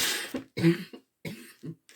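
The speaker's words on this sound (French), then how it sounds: "J'ai ma toux qui va, qui vient" A person coughs several times in quick bursts, harsh and close, with short pauses between the fits.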